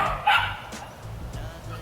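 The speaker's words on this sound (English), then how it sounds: "I'm sorry if you still hear my puppy barking" A puppy gives a sharp, fairly close bark near the start, followed by quieter yips and whimpers over a muffled indoor background.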